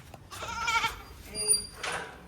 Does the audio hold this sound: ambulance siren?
no